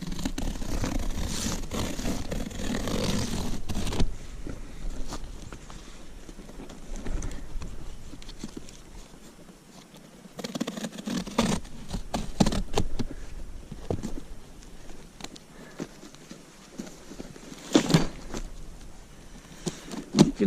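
Someone cuts and tears open a long, tightly stapled cardboard box holding a Logosol Farmers M8 sawmill, making close, irregular scraping, slicing and ripping noises with brief pauses between efforts.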